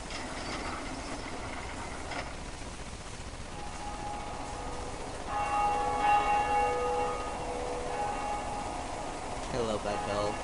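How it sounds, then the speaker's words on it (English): A bell tolls in the Dark Souls video game, its long sustained tone ringing out over a dense, mechanical ambient bed in the belfry area, while people talk throughout. "I love that bell. It's so beautiful."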